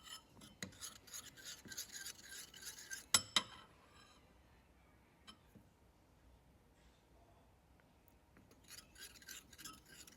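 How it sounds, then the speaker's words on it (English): Spoon stirring a cornstarch and milk mixture in a pan: scattered scraping and clinking strokes, a sharp clatter in the middle, then quiet before a burst of rasping stirs at the end, all faint and close. "just mix the cornstarch with some of the milk from the pan and then add it back into the pan"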